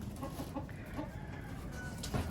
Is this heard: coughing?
no